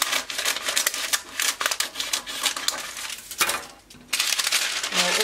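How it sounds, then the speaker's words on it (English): Scissors cut through dress fabric along the armhole of a front pattern piece for a wrap dress, a close, steady run of crisp snipping and rustling with a short pause partway through. "I will cut out the armhole first."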